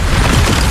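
A Bombarda explosion spell in Hogwarts Legacy, one brief loud booming blast with a thick rumbling roar.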